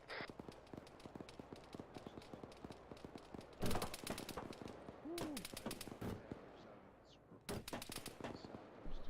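Gunfire in a military video game: constant rapid bursts of automatic machine gun fire, some louder and closer, others distant, with no pause throughout.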